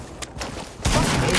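AK rifle gunfire in a console video game played on a controller: a few faint shots, then a loud, dense burst of rapid fire that carries on to the end, close up.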